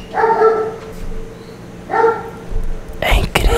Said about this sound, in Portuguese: E o cachorro daí começa a latir.